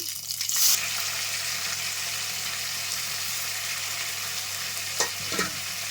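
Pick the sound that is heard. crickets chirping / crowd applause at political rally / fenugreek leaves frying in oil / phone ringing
fenugreek leaves frying in oil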